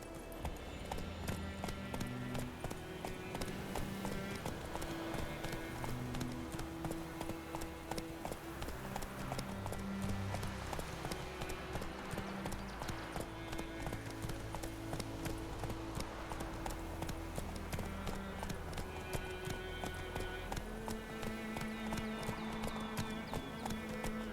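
Horse hooves galloping in The Witcher 3, a continuous rhythmic clip-clop running the whole stretch under a music score, with a faint neigh.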